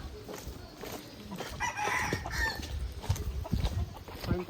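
Chickens on a poultry farm clucking and squawking in overlapping bursts, with a rooster-like call among them, set against rustling and handling noise at fairly close range.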